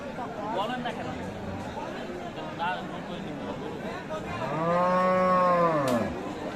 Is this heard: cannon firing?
no